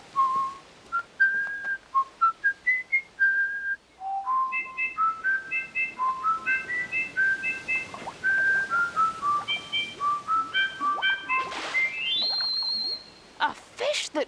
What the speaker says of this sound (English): A fish that can whistle.